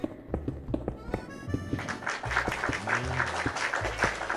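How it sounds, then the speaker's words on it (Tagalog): A single person claps a few sharp hand claps during a livestream, the separate smacks near and distinct at first before blending into a more continuous patter, with a voice murmuring underneath. "Sino po yung pumalakpak po?"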